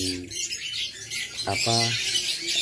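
A lovebird, apparently a female, gives a few sharp, harmonic calls at close range, including a rapid burst of repeated notes, against a faint background hiss.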